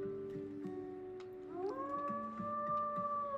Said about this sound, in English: So we're gonna howl, boost territory.